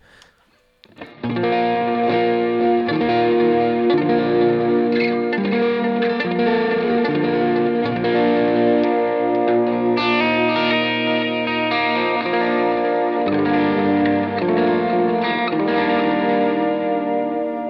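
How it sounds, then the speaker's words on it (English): An electric guitar through a Line 6 POD Go overdrive setting plays sustained, crunchy chords, with a warm distorted tone and a slight shimmer of effects, loud and continuous. "I'm engaging an overdrive pedal"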